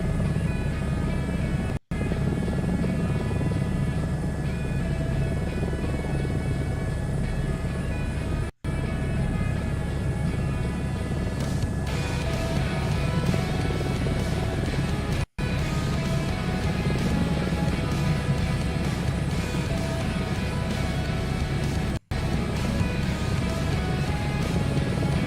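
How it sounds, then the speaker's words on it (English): A helicopter flying in Microsoft Flight Simulator 2024, a steady rotor and engine drone running continuously at moderate level, with no talking. "We're working on our helicopter passenger missions"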